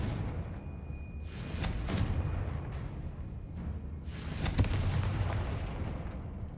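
A Confringo fire spell in Hogwarts Legacy goes off as two muffled booming blasts, the second near the end stronger, over a low rumbling game backdrop, fairly quiet overall.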